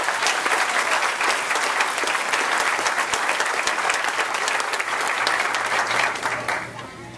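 An audience at a spring graduation ceremony claps steadily for student speakers, a dense, sustained wash of applause that fills the room before tapering off near the end.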